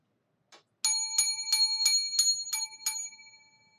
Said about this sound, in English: A high quality hotel bell,